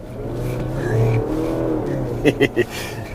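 A Mazda CX-60 with a 2.5-litre petrol engine accelerates under light throttle, heard from inside as a steady, rising engine drone, with three short thumps near the end.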